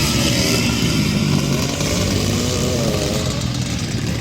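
White Suzuki and orange Kawasaki motocross bikes roar together at the start of a grass track race, a loud, steady, close engine drone with no talk.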